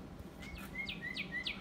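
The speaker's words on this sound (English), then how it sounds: "This is a cardinal. It's the official bird of the state of Virginia, the Commonwealth of Virginia." Northern cardinal song in Virginia: a series of clear, sharply rising whistled chirps, about four in quick succession, moderately loud and distinct over a faint steady background hum.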